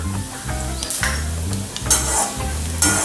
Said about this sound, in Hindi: इनको हम थोड़ा सुनहरा होने तक भून लेंगे, बिल्कुल धीमी आंच पे इनको भूनेंगे